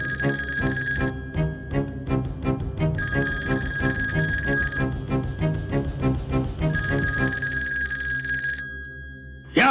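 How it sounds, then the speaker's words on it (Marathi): An old-style telephone bell rings loudly in repeated double trills with short pauses between them, in a tense scene from a Marathi suspense drama set in a hotel, and one final click ends it. "या फोनची रिंग वाजेपर्यंत"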